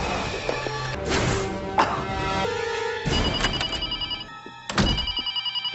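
Telephone rings in repeated electronic trills alongside sharp bangs and knocks, a moderately loud ring pattern recurring several times over background clatter, with no speech.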